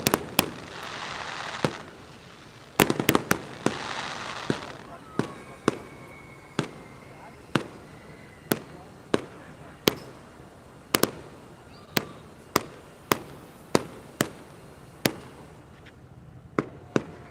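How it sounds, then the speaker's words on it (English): Fireworks burst near the 360 Skywheel as a long run of sharp, loud bangs, some clustered and some spaced a second or so apart, with a crackling flurry early on and no talking. "You can hear those, they go those ones that are exploding."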